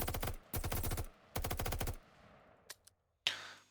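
Automatic assault rifle fire in an Unreal Engine 5 Call of Duty Zombies–style game, heard as three loud rapid bursts of close shots, then a few isolated clicks, brief silence and a final bright mechanical sound.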